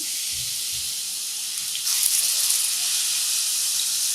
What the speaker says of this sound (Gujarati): હવે દૂધીને ઘીમાં સરસ રીતે સાંતળી લેવાની.